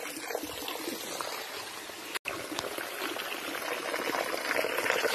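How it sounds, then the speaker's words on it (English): Non-potable water gurgles and trickles steadily at Aphrodite's Baths in Cyprus, a continuous close, bubbling flow with a brief dropout midway and no talk. "Oh, it's making some funny gurgling noises."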